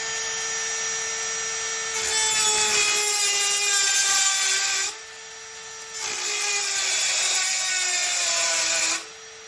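A rotary tool grinds off a weld spot on the top baffle of an Akrapovic full exhaust on a Ducati Pikes Peak. It whines steadily at high pitch and bears down harder in two long passes, with no talk.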